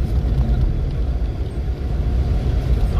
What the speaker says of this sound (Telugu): స్పోర్ట్స్ మోడ్లో పెట్టి సగా తోలుతున్నా బండి.